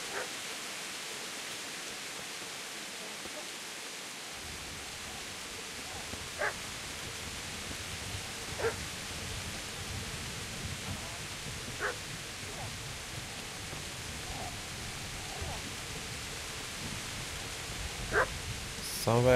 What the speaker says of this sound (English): And a dog.